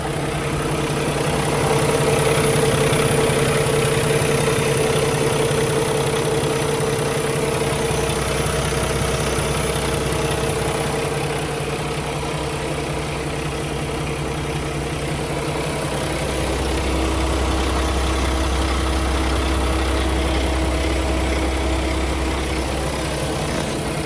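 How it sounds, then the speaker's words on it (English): A Paccar MX13 485 hp diesel in a 2016 Kenworth T680 truck idles steadily, a low continuous rumble heard close up with a faint knock and no talking. "This Paccar engine is one of the longest rated engines that's in service today"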